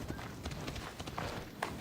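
Horse hooves clip-clop in the Assassin's Creed Odyssey video game, a quick running rhythm of soft thuds under steady game ambience.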